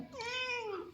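A cat meows once, a drawn-out, rising-then-falling cry lasting about a second, close and clear with no talking over it.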